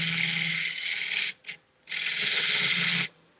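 A wood lathe turns a bowl while a gouge cuts the outside, giving a loud, continuous hissing scrape that breaks off briefly, catches again for a moment, then resumes steadily before stopping.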